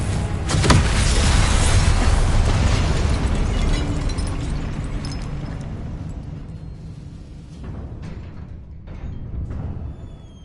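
Confringo spell explosions in the Hogwarts Legacy video game: a sharp blast opens a loud, sustained roaring burst that slowly fades, followed by smaller crackling pops near the end.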